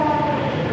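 Walahar local commuter train standing or moving at Cikarang station, giving a steady, dense rumble with a faint tonal hum throughout the brief moment, no voices.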